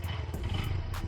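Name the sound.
2025 Honda Grom SP motorcycle engine after start-up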